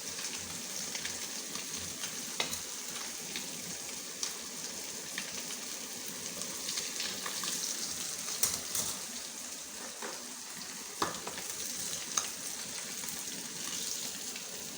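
Pork belly (liempo) frying in a pan, a steady close sizzle and spatter that runs throughout with scattered sharper pops and crackles and no voices.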